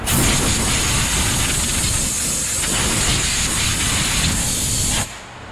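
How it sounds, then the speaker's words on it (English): High-pressure compressed air blasts brake cleaner off A/C machine parts in a loud, continuous close hiss lasting about five seconds before cutting off abruptly, with no voices. "a little bit of high pressure air. dry off all that brake clean"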